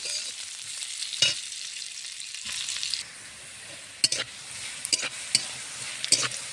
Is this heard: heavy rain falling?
no